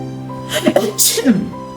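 A storyteller's voice imitates a sneeze with a quick wind-up breath and a sharp, loud burst, delivered close and alone within a spoken tale.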